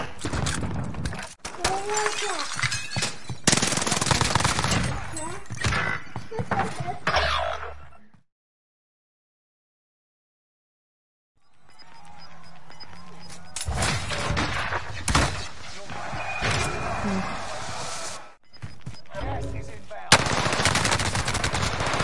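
Machine gun fire in a video game, loud rapid bursts mixed with other game effects and shooting, cutting out for a few seconds of silence before resuming, with people talking over it.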